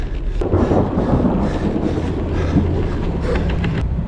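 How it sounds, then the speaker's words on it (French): Thunder rumbling during a storm in the Pyrenees, a continuous low, heavy roll heard outdoors with wind buffeting the microphone, loud and sustained throughout. "Il y a le tonnerre, ça gronde là."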